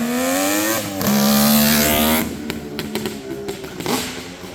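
A 1972 Suzuki GT750 Water Buffalo two-stroke motorcycle engine revs up with a rising, buzzing whine, holds high, then drops back to a rough, uneven idle, loud and close.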